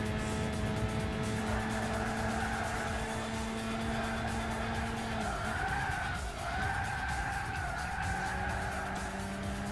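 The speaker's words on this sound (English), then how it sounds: "No, I want a handbrake on this corner. I just want to drift it." A car in Gran Turismo 6 on PlayStation 3, a 400 PP Clubman Cup race, drifting through a corner on the handbrake, with continuous loud tire skidding and squealing over a steady engine drone throughout.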